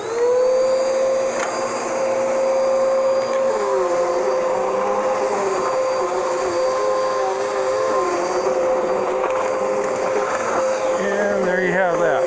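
A vacuum cleaner runs continuously with a steady high motor whine, loud and close, its pitch shifting slightly as it moves.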